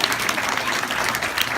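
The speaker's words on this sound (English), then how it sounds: "Hey, great big round of applause for Darwin." Brief burst of audience applause at a live animal presentation about legless lizards, a dense, lively patter of clapping from a crowd, close and fairly loud throughout.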